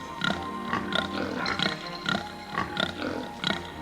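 Rhythmic snorting grunts from pigs, a handful of close, rough bursts layered over sustained musical tones.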